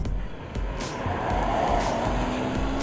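A car on Hankook Ventus S1 Noble 2 all-season tires rolls along at moderate volume with a steady road and engine rumble and soft tire noise, plus a few brief knocks.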